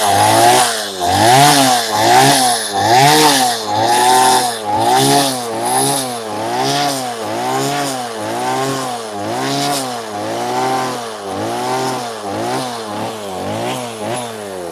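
Chainsaw carving wood: a loud, close engine that rises and falls again and again in a regular rhythm as the blade bites and eases off, running throughout with no talk.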